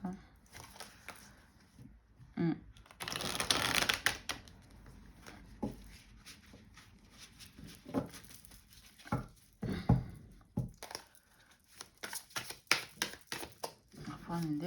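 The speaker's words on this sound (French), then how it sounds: "pendant que je brasse les cartes" Tarot cards are shuffled by hand in bursts of quick riffling and soft flapping, close and moderately loud, with pauses between rounds while someone talks in French.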